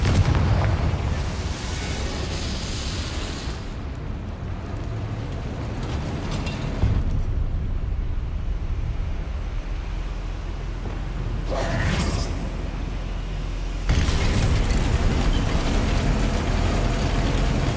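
Confringo fire spell blasting in Hogwarts Legacy during a goblin battle, with loud booming bursts and rumbling over a dense, continuous game soundscape, the strongest blasts coming near the end.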